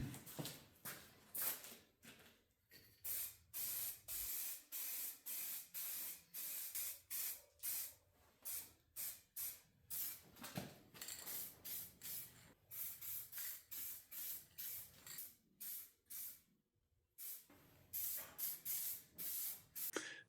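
Rapid bursts of aerosol spray paint coat a tractor battery compartment cover hung on wire, short hissing blasts repeating in quick rhythm with brief pauses, close and loud, no talking.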